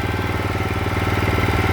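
A greens mower engine runs steadily with its drive wheels engaged, giving off a loud, even, rapidly pulsing mechanical chug that carries on without pause.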